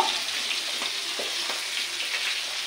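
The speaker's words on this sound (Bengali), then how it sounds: "মাছ দুটো বড্ড ফাটছে" Two katla fish fry in hot oil for a curry with potato and cauliflower, giving a dense, even sizzle with scattered small spattering pops close by and no talking.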